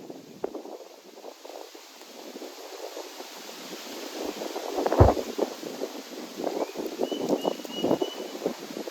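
Wind blows under a jamun tree outdoors, gusting and buffeting the microphone in uneven rumbling bursts that grow stronger, with rustling in between and no speech.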